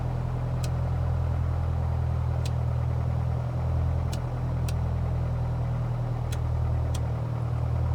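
A PA-28 Warrior II piston engine running steadily at low power during a magneto check in a flight simulator, a constant droning hum with faint periodic clicks.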